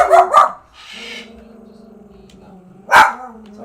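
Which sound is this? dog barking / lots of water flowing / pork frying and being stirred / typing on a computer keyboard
dog barking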